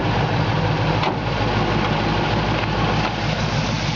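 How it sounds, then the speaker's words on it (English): A 1972 Camaro engine runs at a steady rumbling idle, close and loud, with a deep continuous drone and no talk. "you definitely can rev up the engine. It sounds really good."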